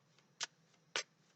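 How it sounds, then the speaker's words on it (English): Decks of cards are riffled in two quick, crisp bursts about half a second apart, close and fairly soft against a quiet room. "as I was shuffling the decks"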